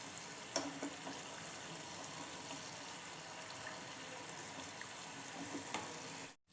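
Samosas deep-fry in hot oil with a steady, soft, close sizzle and a few faint pops. No one talks.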